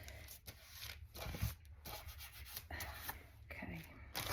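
Cloth rubs steadily across an inked collagraph plate, wiping off excess intaglio ink in repeated short strokes, close up and quiet.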